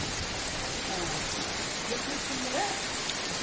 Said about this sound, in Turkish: çok güzel bir yağmur